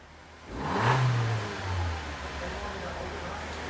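A car engine revs up from idle during a scan-tool diagnosis, the rise starting about half a second in, peaking, then settling into a steady raised hum. It is close and fairly loud, with a voice speaking over it.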